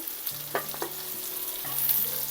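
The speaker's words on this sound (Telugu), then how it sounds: "జస్ట్ ఆయిల్లో ఫ్రై అయితే సరిపోతుందండి." Onions with red and yellow capsicum fry in oil, giving a steady sizzle broken by a few quick stirring scrapes, close and without talk.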